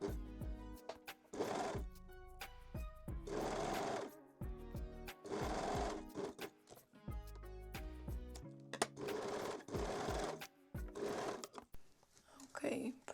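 A sewing machine runs in repeated bursts, stitching a strap for a reversible front-tie bikini top, its rapid needle rattle starting and stopping several times, close and clear.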